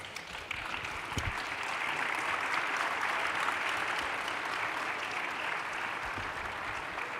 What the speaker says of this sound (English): let's give our ministers from round 1 and round 2 a big round of applause